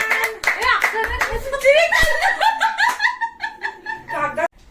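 Hands clapping at a family birthday celebration, a quick scattered burst of applause mixed with laughter and cheerful chatter from several people close by.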